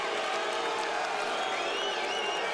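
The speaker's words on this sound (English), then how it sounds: "And he doesn't want any applause." Crowd noise at a UFC event, a steady roar of applause and cheering with a few whoops rising over it.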